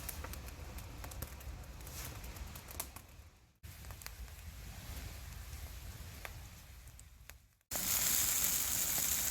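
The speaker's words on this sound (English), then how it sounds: "Figure out a way to put it on in the frying pan with the mushrooms." Mushrooms sizzle and crackle in a hot pan at a backcountry campsite, a steady frying hiss with brief breaks, close by.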